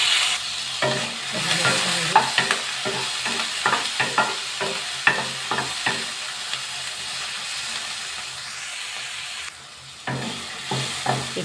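Tomato, ginger and garlic for a coconut-free chutney saute in a pan, with a steady hiss of sizzling oil and repeated scraping stirs that come in quick bursts, close and fairly loud.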